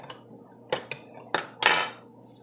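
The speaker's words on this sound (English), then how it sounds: "So get yourself a spoon to use and just squeeze that water out." A spoon pressing hot strained cauliflower in a strainer or pot, giving a few sharp metallic scrapes and clinks spaced out, the last one longer and louder, with no talking.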